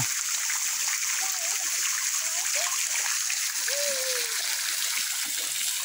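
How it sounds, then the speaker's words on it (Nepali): Water flowing strongly near a Buddha statue outdoors, a dense continuous rushing and splashing that fills the scene evenly, with faint whistle-like tones above it. "यहाँ चाहिँ पानी पुरा बगिरहेको छ।"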